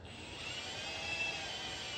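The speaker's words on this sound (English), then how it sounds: "I'll have to drill 2 holes in here once I get these marks on the" A steady high-pitched whine of a drill boring holes in a metal switch bracket, continuous and fairly close with no talk.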